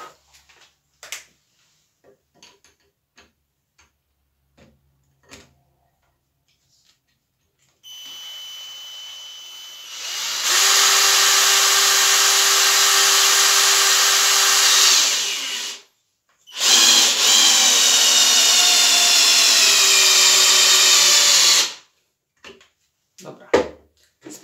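A Graphite Energy+ 58G010 impact drill drives an 8 x 220 mm screw in two loud sustained bursts of whining, rattling motor noise separated by a brief pause, with scattered handling clicks before and after.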